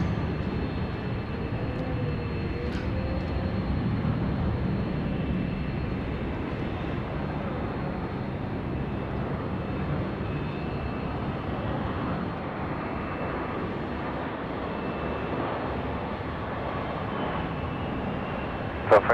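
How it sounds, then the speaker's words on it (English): A Jetstar Airbus A320 airliner lands at Sydney Airport at night, its broad, steady roar rumbling loudly and continuously with no voices over it. "The first one coming in, Jetstar 534. It's an A320 milk run."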